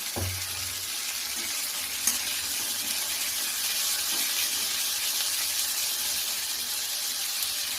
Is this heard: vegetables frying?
yes